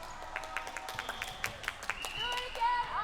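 Spectators at a 13U girls' volleyball match clap in quick, uneven bursts, fairly close, with voices and cheering rising toward the end.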